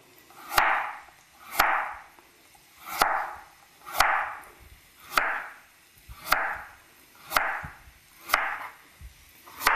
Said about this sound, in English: here I'm going to just cut little thin slices. So that way I'm going to cut really small julienne style